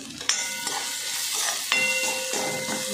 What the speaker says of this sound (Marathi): चांगलं परतून घेत आहे अगोदर